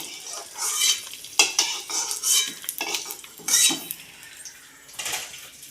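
Cashews fry in ghee as a metal spoon stirs them in a pan, irregular scraping clinks over a soft sizzle, close up and without voices.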